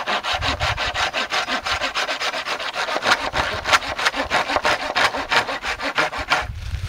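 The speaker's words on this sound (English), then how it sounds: "then you saw it on the end of the tree" A hand saw cuts through the end of a tree branch at a campsite, steady back-and-forth strokes rasping loudly and close, about two per second, with no voices.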